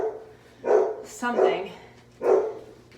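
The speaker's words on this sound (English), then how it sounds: "the dogs are now barking at something" A dog barks three times in spaced, loud yelps, close by, with a faint low hum underneath.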